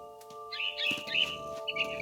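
A frightened bird chirps and tweets in quick, high bursts over a low ambient hum in the What Remains of Edith Finch video game, heard close and fairly clear.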